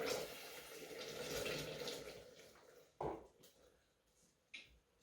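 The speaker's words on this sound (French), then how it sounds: "on va mettre nos 60 grammes d'eau restants." Water from the remaining measured amount of a caramel recipe is poured into a Thermomix TM6 bowl holding liquid caramel, a steady rushing splash for about three seconds that then stops, leaving a couple of short clinks.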